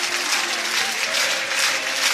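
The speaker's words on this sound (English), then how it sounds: "just giving us some Mirren fans a wee clap there." Dense, continuous applause fills a football stadium after a St Mirren win over Inverness, a broad wash of clapping from the crowd as a player claps back toward the home fans.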